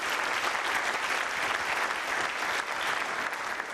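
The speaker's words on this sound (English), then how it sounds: "please give Mr. Adekunle a round of applause" Audience applause fills a panel event, a steady, fairly quiet wash of many hands clapping at an even level throughout.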